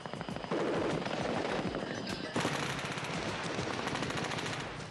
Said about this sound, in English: The sound of gunfire, M16s and AK-47s, is authentic.